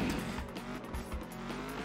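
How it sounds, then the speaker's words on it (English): Car in the racing game New Kids: Nitro Racer driving around town, engine drone mixed with loud continuous tire squealing and skidding, steady and close throughout. "you can drive all the cars around town if you want"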